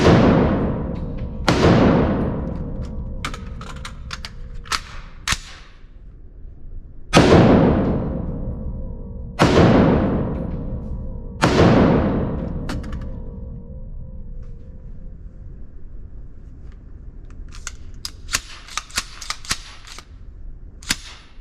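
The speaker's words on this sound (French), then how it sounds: "Donc, c'est un peu plus difficile pour tirer, surtout si je vais tirer le fusil plus rapide." Entry-level M4 rifle in 5.56 and 7.62 fired at an outdoor shooting range in Switzerland, five loud sharp single shots spaced a few seconds apart, each with a long decaying echo, followed by faint clicks and handling sounds.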